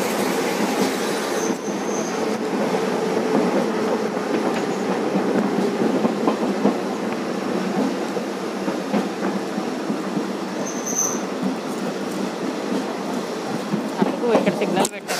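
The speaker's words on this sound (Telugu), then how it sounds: "ట్రైన్ కొత్త ట్రాక్ పైకి వెళ్తుంది." Passenger train running on newly laid railway track near Bhimavaram Junction, a continuous loud rumble with wheel clatter and occasional high squeals from inside the moving coach.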